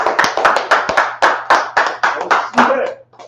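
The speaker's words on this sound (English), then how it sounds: "Clap it up for the class." A small group claps together for a class, sharp close hand claps falling in a loose, slightly uneven rhythm for about three seconds, with a low steady hum underneath and a few taps trailing at the end.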